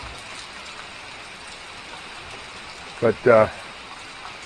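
Steady rain falls on a cloudy, darkening evening, a constant broadband hiss throughout, with a brief burst of a person speaking near the end.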